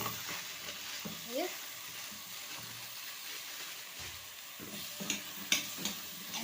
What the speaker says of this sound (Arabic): قلبيه تقليبه حلوه كده